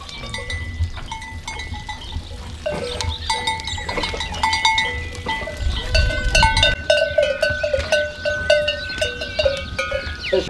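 Goats being milked by hand on a farm, with several cowbells clanking and jingling irregularly nearby over faint animal shuffling and occasional goat sounds.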